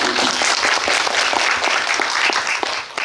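Audience applause at a Korean film cine-talk event for the director's cut of a movie, dense steady clapping filling the hall at an even loudness throughout, with no voices over it.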